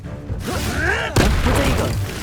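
Confringo blasting spell from Hogwarts Legacy: a whooshing magical charge followed by a sudden booming burst at about one second, with crackling debris trailing off, close and loud.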